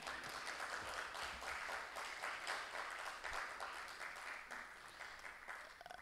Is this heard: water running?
no